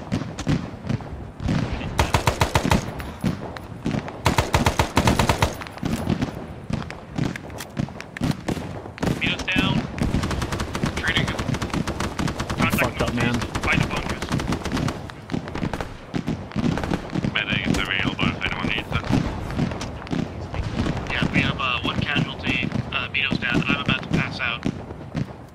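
Gunfire from a bunker in the video game Arma, set in the Vietnam War, with dense, rapid cracks of shots repeating throughout alongside constant radio-style voices talking over the action.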